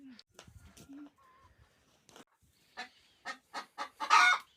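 Backyard hens cluck in short, separate bursts, close by, with the calls bunching up and growing louder toward the end; a quiet voice is briefly heard among them.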